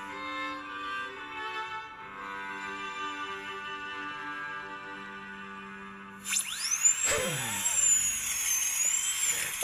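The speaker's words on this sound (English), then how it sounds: "This is a dentist drill." A dentist's drill in the video game The Council enters after a steady tonal hum, giving a high whining, sweeping scream with shifting pitch that runs loud to the end.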